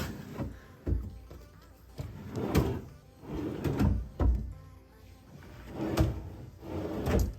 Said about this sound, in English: this little area also has 3 drawers